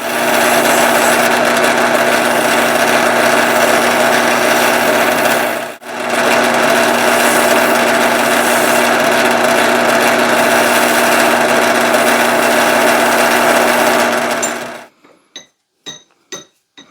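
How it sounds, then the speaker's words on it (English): A bench wire wheel scrubs light surface rust off a screwdriver, a loud steady whirring grind held for about fifteen seconds with one brief dip, then spinning down into a few scattered clicks. "I'm going to take it to the wire wheel now and just try to clean up that little bit of surface rust that's on there"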